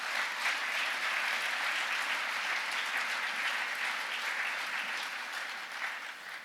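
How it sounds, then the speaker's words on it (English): Applause from a banquet audience, honoring ambassadors: a dense, steady wash of clapping throughout, easing slightly toward the end. "So a round of applause to the ambassadors that are here."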